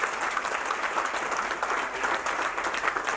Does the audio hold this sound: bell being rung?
no